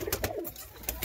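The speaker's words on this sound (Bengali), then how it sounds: "এগুলো সব আন্দ্রা পায়রা।" Andhra pigeons give a brief, soft cooing call with a falling note over faint background noise, lasting only a moment.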